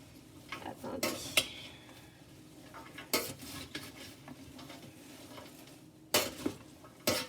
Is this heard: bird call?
no